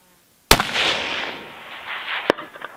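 A single sharp .308 rifle shot cracks out loudly at a long-range shooting setting, followed by a trailing rumble and then a faint, distant smack of the bullet striking the steel target about two seconds later.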